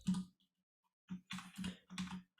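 Typing on a computer keyboard: a short key burst, a pause, then a quick run of four or five clicky keystrokes, close and fairly quiet, with no talk.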